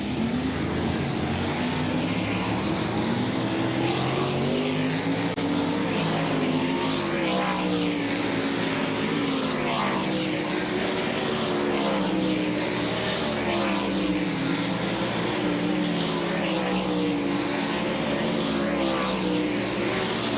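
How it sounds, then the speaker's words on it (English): World of Outlaws NOS Energy Drink Sprint Car Series cars running a practice session at Volusia Speedway Park, a steady, loud, close roar of several engines rising and falling in pitch as they circle the track, with no voices. "we get set to wave the green flag on group number 3 of World of Outlaws NOS Energy Drink Sprint Car Series practice"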